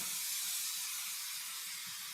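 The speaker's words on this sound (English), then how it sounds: "typically you would want to go outside and spray your spray adhesive" Spray adhesive hisses from an aerosol can in one continuous, bright, airy spray that lasts a couple of seconds, close and steady, with no talking.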